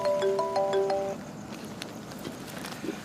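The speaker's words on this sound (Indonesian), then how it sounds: "Itu ada bunyi telepon, kamu nggak mau angkat." A phone ringtone plays a short melodic series of electronic tones for about a second, then stops, leaving a quiet indoor room with faint background noise.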